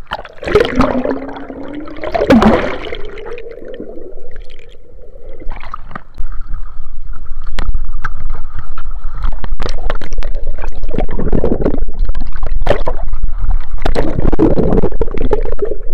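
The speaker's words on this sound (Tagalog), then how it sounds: "Parang mahirapan tayo kasi yung alon lumaki" Large sea waves around a fishing boat carrying about 7 tons of catch, with loud water rushing and splashing against the hull, close and continuous, plus gurgling surges and a steady, powerful wash.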